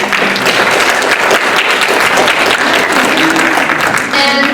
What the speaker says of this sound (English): I just wanted to give them a quick round of applause for coming out once again.